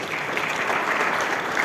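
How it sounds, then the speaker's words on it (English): Audience applause at a memorial lecture, a steady, dense wash of clapping from a full room, fairly loud and sustained for the whole short stretch. "Indeed, a round of applause for him."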